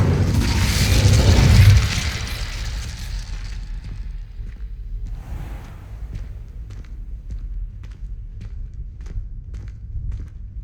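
The Incendio fire spell in Hogwarts Legacy goes off as a loud, close whooshing explosion that lasts about two seconds. It fades into a lower rumble, and faint footsteps and clicks follow.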